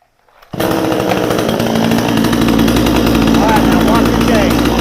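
A Vevor 62cc chainsaw engine bursts to life after brief quiet and roars loudly up close, its chain turning in a continuous, rough, buzzing drone for the remaining seconds.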